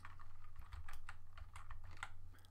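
Quiet, close typing on a computer keyboard at a desk, a quick run of light key clicks in an uneven rhythm with no voices.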